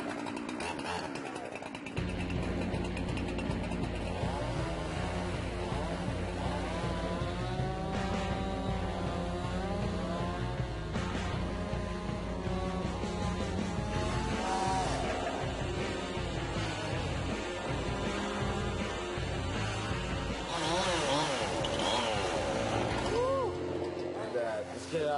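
A loud chainsaw engine roars almost continuously while cutting a wooden breakfast bar in a cabin build, its pitch rising and dipping as it bogs into the cut, with occasional revving bursts.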